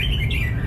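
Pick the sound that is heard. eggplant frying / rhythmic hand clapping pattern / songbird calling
songbird calling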